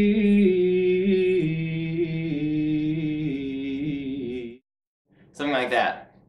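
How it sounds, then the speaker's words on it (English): A solo singing voice demonstrates a vocal run exercise with an upper neighbor tap embellishment, holding and sliding between sustained pitches for several seconds, then a brief pause and a short, brighter ornamented phrase. "starting on one note and then just doing your vocal run and then going down and doing the embellishment again"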